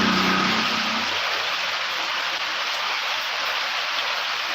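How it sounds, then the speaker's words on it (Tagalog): Steady, dense hiss of rainfall pouring continuously in the provinces, loud and close, with a low hum fading out in the first second. "Ulan na naman dito sa probinsya namin."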